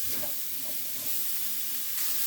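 Meat sizzles and crackles steadily in a hot pan, a continuous close frying hiss with no voices.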